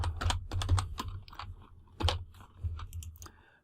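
Code typed on a computer keyboard, a close, brisk patter of clicky keystrokes in uneven bursts with a brief pause in the middle.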